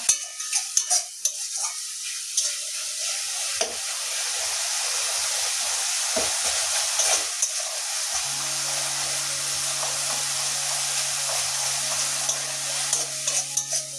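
Spice paste with tomatoes frying in a pan for a spicy pabda fish curry with brinjal, a steady close sizzle with scraping stirs, and a low hum joining partway through.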